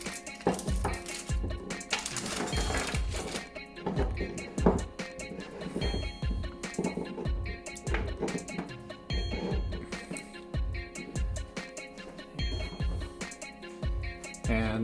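Packaging rustles and crinkles while an older Subaru fuel pressure regulator is taken out of it, with small metallic clinks mixed in. Busy, irregular handling noises run throughout, close by.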